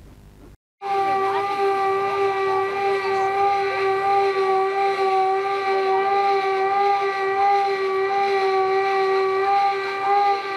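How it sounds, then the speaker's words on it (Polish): A civil defense siren sounding across the country at 5 pm on the first of August in memory of the Warsaw Uprising, a loud steady sustained wail that starts abruptly after a brief quiet and holds without break. "Pierwszego sierpnia, dokładnie o godzinie 17, w całym kraju rozległ się dźwięk syreny."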